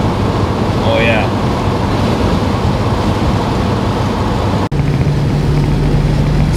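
A 1992 C4 Corvette cruises on a rough road with the Targa top off, steady engine and road roar mixed with heavy wind rush, loud and close, with a brief dropout near the end.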